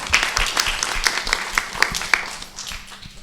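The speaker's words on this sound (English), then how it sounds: "Give Ralph a big round of applause" Applause for a guest named Ralph at an evening public presentation on neighborhoods, a short scattered burst of hand claps with distinct individual claps standing out, thinning and fading toward the end.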